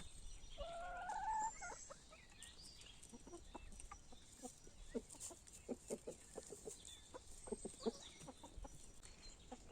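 Chickens on a homestead cluck in a run of short, close, uneven calls that grow busier toward the end, with a higher squawk early on and no talking.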